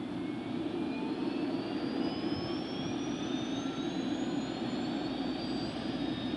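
Bell OH-58 helicopter turbine spooling up during engine start, a steady loud whine with rising tones over a constant low rumble, heard close and without talk.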